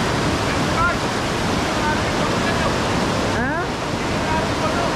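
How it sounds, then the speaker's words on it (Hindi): Fast-flowing river rushing past, a loud, constant broadband roar of water with a little wind noise against the microphone, steady throughout with no clear voices. "नदी का बहाव देखिए आप कितना तेज है"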